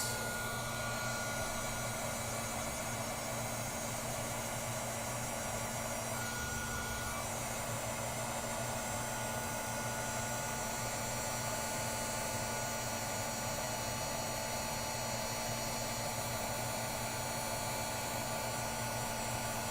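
A handheld heat embossing tool blows hot air over a crafted card, giving a loud, steady whirring hiss that runs unbroken from start to end with no talking.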